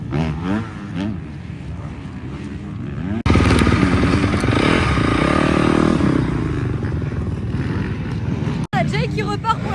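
A motocross bike works around a small track. It is quiet at first, then turns loud and close with a revving, rising and falling engine roar and some clattering. There is a brief cut, then more engine noise.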